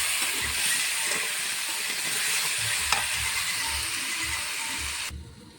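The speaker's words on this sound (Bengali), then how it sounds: "স্বাদ মতো নুন দিয়ে ডাঁটা আর আলুটা ভালো করে ভেজে নেব" Vegetable stalks and potatoes fry in a pan with turmeric and salt: a loud, steady sizzle broken by regular low thumps of stirring, cutting off suddenly at the end.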